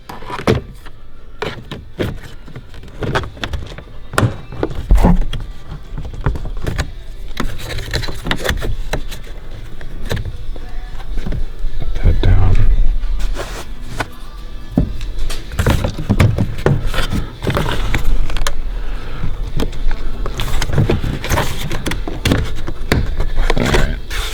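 A plastic interior trim panel is pried off inside a 2016 Ford F250 truck, producing a dense run of close clicks, snaps, clunks and rustling handling noises throughout, with no talking.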